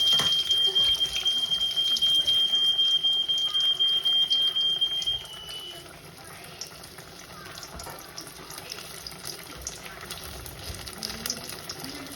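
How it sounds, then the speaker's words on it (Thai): A high, steady electronic alarm tone rings continuously for about five seconds, then stops, leaving a noisy background with running water. "เสียงสัญญาณเตือนมันดังขึ้นนะคะ"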